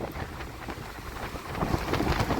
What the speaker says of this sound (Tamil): காற்று கொஞ்சம் பலமாக அடிக்குது